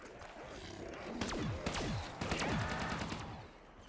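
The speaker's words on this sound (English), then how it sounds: "How many bullets have I pumped into this stupid thing?" A handful of pistol shots fired into a zombie in Black Ops 3 Zombies on Zetsubou No Shima, sharp separate cracks in quick succession over game ambience, fairly loud and close.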